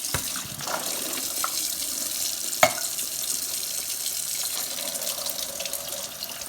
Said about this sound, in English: I'm going to take this to the sink and I'm going to give these a good rinse.